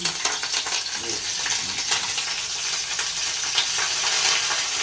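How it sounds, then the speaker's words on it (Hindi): Steady hiss and crackle of hot oil sizzling in a pan while tempering spices, with small pops scattered throughout, close and continuous, no voices. "गैस में डालते हैं तेल, एमा छौंक लगा के छौंका की थे"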